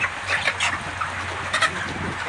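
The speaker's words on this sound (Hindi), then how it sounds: "हमारा चूजा आज 43 दिन का हो गया माशाल्लाह।" Broiler chickens, 43 days old, fill a poultry farm shed with a steady, dense murmur of clucks and chirps, with scattered sharper calls rising above the continuous flock noise.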